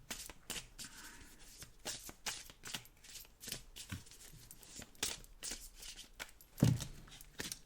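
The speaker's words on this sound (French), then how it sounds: "J'arrive plus à mélanger les cartes." Oracle cards are shuffled by hand in quick, crisp riffling bursts that come close and repeat in an uneven rhythm, with one louder knock near the end.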